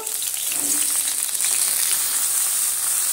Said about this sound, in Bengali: এবার আমি এখানে শিম আর একটা আলু নিয়েছি আর ছোটো ছোটো ফুলকপি নিয়েছি, সেগুলো আমি সুন্দর করে ভেজে নেব